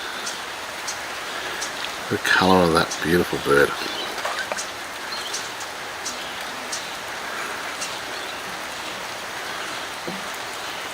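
Steady rain falls outdoors at Loch Sport, a broad continuous patter throughout, with someone briefly speaking over it and occasional faint bird calls.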